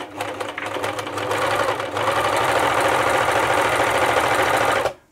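An Elna T34D serger overlocker runs rough, its motor and stitching mechanism giving a loud, steady, rattling mechanical hum with a rhythmic pulse, close by, for about five seconds before it stops. No one talks.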